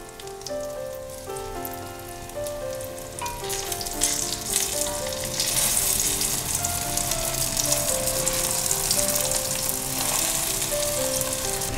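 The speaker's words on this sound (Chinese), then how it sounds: "我大概煎了3分钟，另一面也变成金黄色了。 再把它翻另外一面，变成就是4面都要煎到。" Turmeric tofu skin seaweed rolls fry in a pan with a steady, close sizzle that thickens midway and holds, with background music playing throughout.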